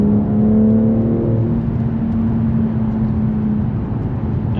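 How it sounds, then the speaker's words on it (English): A 2024 BMW M3 G80 engine on the road gives a steady, loud low drone from inside the car, a smooth cruising hum with a brief tonal whine early on and no sharp revving peaks. "see if you can hear the engine in a second"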